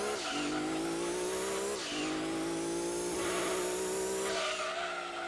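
A race car in Gran Turismo 2 at about 200 mph, loud engine roaring with repeated downshifts and falling revs as it brakes hard into a turn, with tire squeal layered on top.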